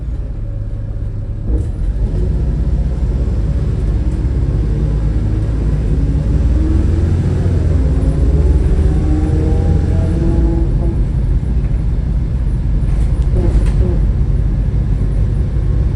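A Volvo B7RLE bus in Doncaster pulls onto a main road, its engine a loud, steady low rumble that swells as it accelerates, heard throughout without a break.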